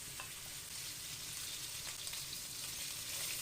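Beef sizzles in a wok beside ginger and garlic, a quiet, continuous frying hiss with light crackle and occasional stirring, heard close with no speech.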